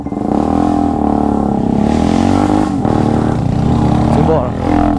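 A loud Mini Africa Twin motorcycle engine revs and drones close by on a muddy trail, pitch rising and falling as it accelerates.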